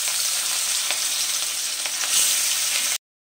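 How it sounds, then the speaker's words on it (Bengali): Catla fish pieces fry in hot mustard oil in a wok, giving a steady, close, bright sizzle with faint crackles and a few stirring ticks, with no voices, before the sound cuts off abruptly. "এবারে তেলের মধ্যে আমি একটা একটা করে মাছগুলো দিয়ে ভেজে নেব।"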